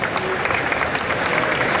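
Steady, close applause fills the hall at the 2018 EICMA KTM press launch as the new KTM 690 SMC-R is unveiled, a dense crowd clapping throughout with faint voices underneath.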